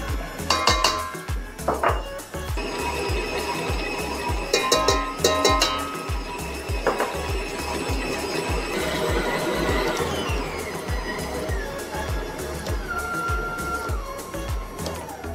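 A Moulinex Coach stand mixer kneads buttery dough with its hook, a loud continuous motor churn with rhythmic thumping and clanking of the bowl, close by, with no talking.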